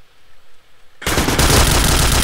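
Loud, sustained automatic gunfire from the online shooter Point Blank bursts in suddenly after a second of quiet background, continuing as a dense rapid stream to the end.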